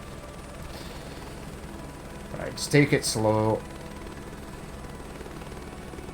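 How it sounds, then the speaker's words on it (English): A helicopter in a flight simulator game, flying a crop-dusting job, thrums with a steady low rotor and turbine drone throughout, while a voice briefly speaks in the middle. "I think as the helicopter is getting lighter,"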